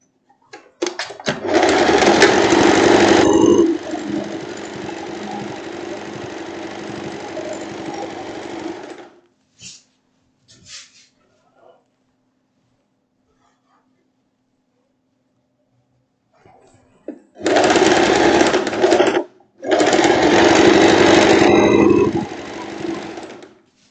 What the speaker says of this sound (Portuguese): E a gente vem agora costurando.